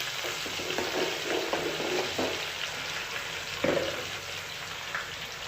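Chili and curry leaves frying in hot oil in a home kitchen, a steady close sizzle and crackle with a few brief spatters, alone without talk.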